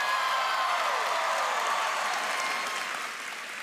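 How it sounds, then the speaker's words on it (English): A large audience at a D23 Expo panel on Disney Parks and Experiences gives a loud, sustained round of applause, dense clapping with scattered whoops and cheers that fades slightly toward the end. "How about another huge round of applause for Jordan Fisher?"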